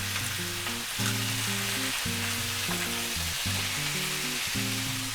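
Guinea hen sizzles and fries steadily in a pan after being turned, a continuous hiss running beneath loud background music throughout.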